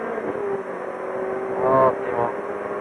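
An Audi A5 accelerates on the Monza track, its engine note droning steadily from inside the cabin and rising briefly in pitch near the middle, with a voice talking over it.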